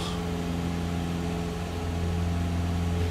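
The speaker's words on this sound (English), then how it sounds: "you can hear all the engine noise and everything else" Airplane engine noise in Microsoft Flight Simulator 2020, a steady, droning hum with strong low tonal bands and a constant broadband roar, even and unbroken throughout with no talk.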